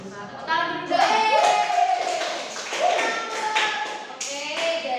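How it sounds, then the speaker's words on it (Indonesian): Fourth-grade elementary pupils clap their hands in a classroom, quick taps mixed with children's voices chanting and speaking in rising, sing-song phrases over the top. "Tepuk tangan dulu dong."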